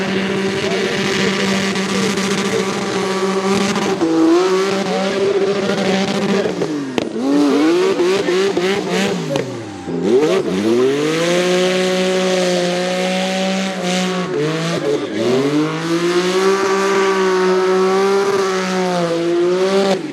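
A 4-rotor Toyota Supra screams through a 3rd gear tip-in, its high, buzzing engine note climbing and dipping through repeated revs, loud and close for about twenty seconds.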